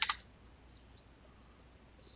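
Two short bursts of rapid clicking keystrokes on a computer keyboard, one at the start and one at the end, separated by near silence, close and clear.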